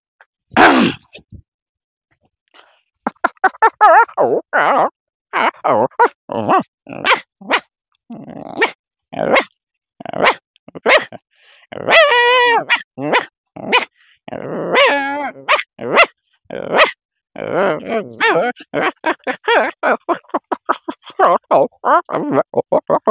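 A man mimics a dog with his voice, producing a long string of loud, close barks, growls and yelps in uneven bursts separated by short pauses, with a few whining, wavering calls in the middle.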